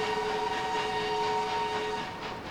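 Trains running in the Transport Fever game give a steady, loud rolling rumble with sustained horn-like tones layered on top, easing off slightly near the end.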